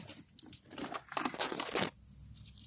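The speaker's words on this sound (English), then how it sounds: "Cut off a piece of twine with the scissors" Crisp crunching snips of scissors cutting through twine, a few close cuts in quick succession, then quiet.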